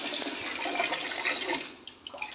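Water from a household tap splashes and gurgles into a container as a child fills it in the evening, a fairly quiet, uneven running stream that thins out and trickles near the end.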